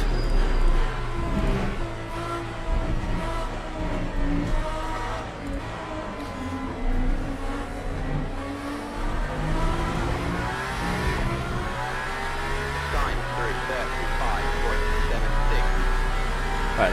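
Aston Valkyrie GTP race car in Le Mans Ultimate, its engine droning loud and steady, rising and falling through gears over a long run, with faint talk now and then.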